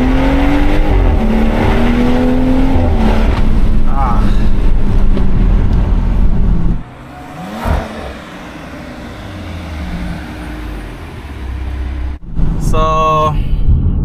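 A BMW M140i under hard acceleration, its engine and exhaust heard from inside the car as a loud rising drone with gear changes, dropping to a lower rumble, then a sharp burst of revs near the end.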